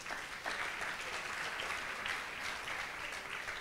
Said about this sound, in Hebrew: אז מגיע למחיאות כפיים.